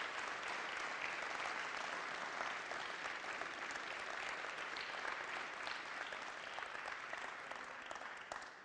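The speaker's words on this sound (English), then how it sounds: "an enormous round of applause" A large audience applauds in a barn at a Conservative Party event, dense sustained clapping that holds steady for several seconds before starting to fade, with no voices over it.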